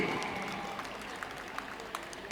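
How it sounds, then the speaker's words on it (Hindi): Applause from an outdoor crowd at a Delhi school sports event as children run a race past the stage, a steady, moderately loud wash of clapping with crowd murmur underneath. "तालियां बजाइए, तालियां बजाते रहिए।"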